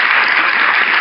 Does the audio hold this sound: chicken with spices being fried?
no